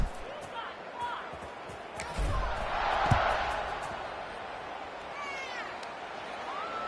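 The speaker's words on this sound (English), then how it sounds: "this crowd is buzzing after that last score" A football stadium crowd gives off a broad, distant roar that swells to a peak midway and then eases back to a steady murmur, with a commentator talking over it.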